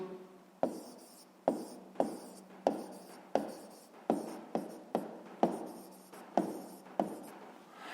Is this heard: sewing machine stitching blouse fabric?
no